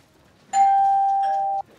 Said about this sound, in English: Yeah, it was my doorbell.